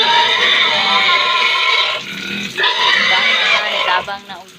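Backyard pigs squeal and grunt loudly at feeding time in a rural province, shrill overlapping cries in bursts with brief dips between them, close by.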